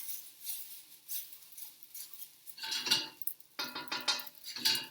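Food tossed and stirred in a hot wok over a gas flame, with a spatula clattering and scraping against the metal pan in irregular bursts that grow louder and busier toward the end.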